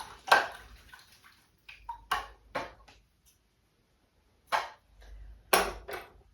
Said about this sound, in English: So I'm gonna rinse this brush out now.